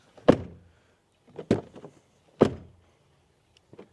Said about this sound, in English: here for the front door closing sound